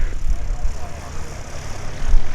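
A white Cirrus light propeller plane is airborne near the runway during Oshkosh AirVenture 2021 arrivals, its engine drone steady and moderately loud amid wind and broadband airfield noise.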